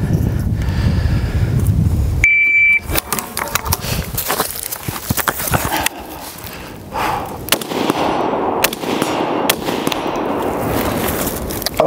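Three rifle shots fired from a bipod at a shooting range, sharp loud cracks spaced a few seconds apart amid handling clatter and outdoor noise, close to the shooter.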